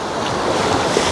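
Sea waves wash loudly onto a beach at Florianópolis, Brazil, during flooding that is eating away at the shore, a continuous roar mixed with wind buffeting the microphone.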